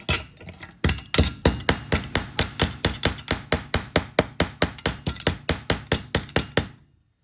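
A hammer strikes a bent metal part from a Porsche 944 Turbo held in a vise, a steady run of about two dozen sharp ringing blows at an even, brisk rhythm, loud and close before stopping.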